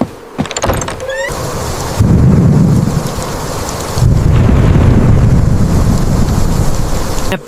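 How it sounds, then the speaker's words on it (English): A powerful thunderstorm on an isolated farm: heavy rain pours steadily while deep thunder rumbles roll in waves, loud and near, with a few sharp knocks at the start. "A powerful storm, the kind that only happens once in a great while."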